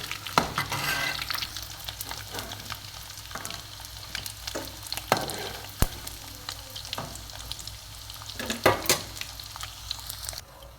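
Green chillies and onions fry in hot oil with a steady broadband sizzle, while sharp scrapes and knocks from stirring break through it now and then. No one speaks.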